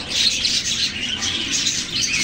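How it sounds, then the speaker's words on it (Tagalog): Pet cockatiels and other caged birds chatter and chirp together on a rooftop, a continuous bright, overlapping flock of calls, close and fairly loud. "maingay dito sa aming rooftop. Gawa ng mga ibon ko."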